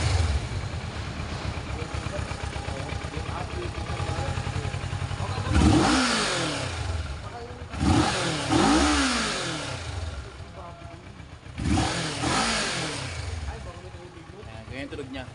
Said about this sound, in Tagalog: check out natin yung tunog na itong 650cc